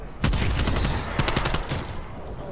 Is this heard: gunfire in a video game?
yes